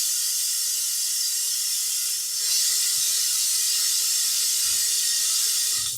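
Venturi suction pump drawing old fuel out of a Honda EB 6500 generator that sat for years, a steady close airy hiss with a rushing steam-like quality throughout, slightly stronger in the second half and uninterrupted by talk.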